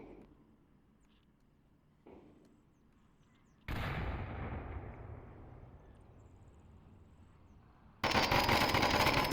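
Gunfire in the VR shooter Onward during a competitive match: sharp shots crack out in bursts, each followed by a lingering rumble, and the last burst is a loud, sustained volley.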